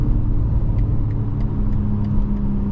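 Inside a 2023 BMW X4 M40i accelerating on a highway, a steady low engine drone and road rumble fill the cabin at a constant, moderately loud level.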